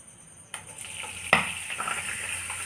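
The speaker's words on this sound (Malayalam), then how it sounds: "നന്നായി ചൂടായിട്ട് വന്നിട്ട് അതിലേക്ക് ഈ ഗ്രേറ്റ് ചെയ്ത് വെച്ചേക്കുന്ന ഉരുളക്കിഴങ്ങ് ഇട്ട് കൊടുക്കാം" Grated potato dropped into hot oil sizzles and crackles steadily, with a sharp burst as it hits the pan, loud and close with no talking.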